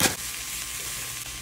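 Cabbage and other vegetables for homemade egg rolls sizzle in a hot pan, a steady close frying hiss with a loud burst as they land at the start, no talking.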